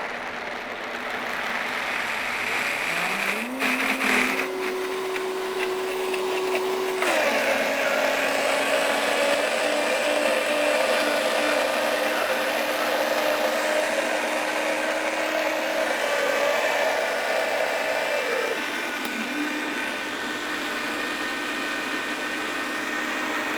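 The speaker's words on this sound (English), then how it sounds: "And now I'm just going to blend this until it's really nice and smooth." A blender whirs steadily through chocolate pecan tart filling for over twenty seconds, its motor pitch stepping up and down as the speed changes, with no talking.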